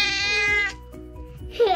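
A child imitates a cat with a drawn-out, high, wavering meow, a brief pause, then another shorter rising meow, loud and close.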